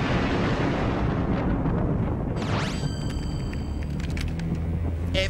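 A cartoon explosion sound effect in an animated show, a loud, sustained roaring blast of broadband noise that holds steady for several seconds, with a brief descending whistle and some ringing tones partway through.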